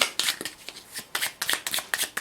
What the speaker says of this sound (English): Give the pile a good shuffle